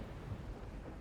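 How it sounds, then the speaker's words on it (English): Loud, low rumbling thunder clap from the video game Root Film, a sustained booming roar filling the short moment on its own with no voices. "The screen fades to white with an especially loud clap of thunder"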